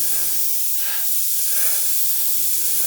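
Close and continuous, a Gaahleri GHAC-98D airbrush hisses as it sprays matte varnish at 22 psi, the airflow swelling slightly twice over a low background rumble.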